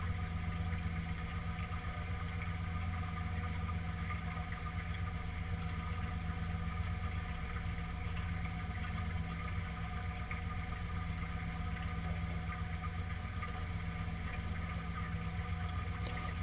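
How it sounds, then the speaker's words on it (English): A steady low engine idles continuously, a constant droning hum with stable tonal lines and no speech, moderately quiet throughout. "just let the engine now idle"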